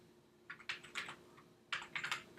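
Fingers type on a computer keyboard in two short bursts of quick, light key clicks, close and fairly quiet, with a brief pause between the bursts.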